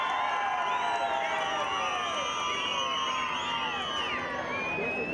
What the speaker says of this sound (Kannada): ಬರ್ಲಿ ಒಂಜೋರ ಚಪ್ಪಾಳೆ